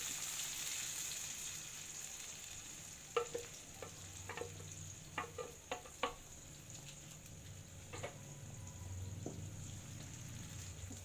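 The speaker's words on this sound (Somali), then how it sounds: "yaanyada waxaan rabaa si fiican inay igu shiilanto" Tomato sauce sizzles and fries steadily in a pan, with several sharp utensil clinks as it is stirred.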